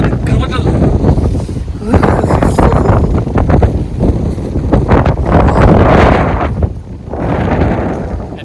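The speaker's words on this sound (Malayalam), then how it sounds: "ഷർട്ട് പറക്കുമ്പോൾ തന്നെ നിങ്ങൾക്ക് അറിയാം എത്രത്തോളം കാറ്റും കാര്യങ്ങളൊക്കെ" Strong gusts in the hills of Idukki buffet the microphone with heavy roaring rumble, rising and falling, while a person talks beneath the wind.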